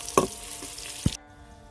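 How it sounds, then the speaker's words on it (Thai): Shallots fry over low heat in a pot with a little oil for Indian-style chicken khao mok, a close, steady hiss with a couple of stirring knocks before it cuts off. "ก็นำหอมแดงส่วนหนึ่งมาผัด ใส่ หม้อใส่น้ำมันเล็กน้อย ใส่ไฟอ่อนๆนะครับ"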